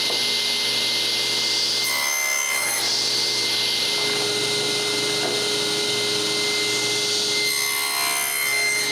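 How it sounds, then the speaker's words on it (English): Spline slots being cut into a glued wooden frame give a loud, steady machine-like sawing drone that runs almost continuously, with two brief dips in the noise. "When the glue is finally dry enough, I can cut my slots."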